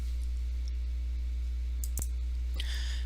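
Isolated sharp mouse clicks select menu items in Acumatica business software, two or three crisp taps over a steady low electrical hum with no talking.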